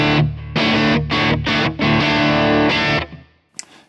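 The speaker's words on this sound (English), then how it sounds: "take the tremolo off and put the soft compressor on" Electric guitar played through a Kemper AC20 profile with a soft compressor, a run of loud, distorted chords struck in even bursts, each held briefly then cut, ending in a faint final scrape.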